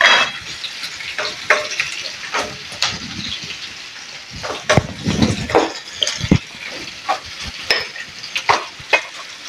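Onions sautéing in a pan for chicken pastil: a loud, continuous sizzle broken by frequent scraping stirs and occasional utensil clinks against the pan, with no talking.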